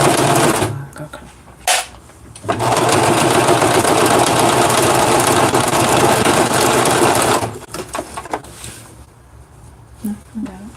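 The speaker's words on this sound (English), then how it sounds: "You see I'm sewing it gold with navy blue thread." Sewing machine stitching a bag with navy blue thread, running in a long steady loud burst after a few short starts, then stopping; a person talks nearby.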